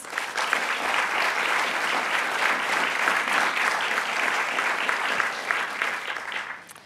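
Sustained audience applause at a university learning and teaching awards ceremony for citation winners, a dense steady wash of many hands clapping, loud and even throughout before tapering at the very end.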